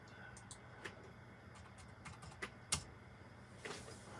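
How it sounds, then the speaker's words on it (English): Faint, light clicks of typing on a computer keyboard form a sparse, irregular run of keystrokes with a slightly louder tap near the middle, set against a quiet room background. "Let me just type that in."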